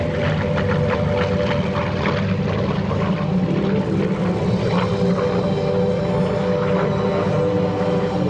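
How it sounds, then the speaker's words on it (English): F4U Corsair propeller fighter flying at an air show at NAS Patuxent River, a continuous throaty piston-engine drone with rough propeller beating, loud and steady throughout. "The F4U Corsair,"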